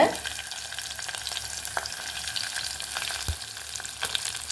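Mustard seeds and dried red chillies fry in hot oil, a steady close sizzle with scattered crackles and pops and a light clink of stirring.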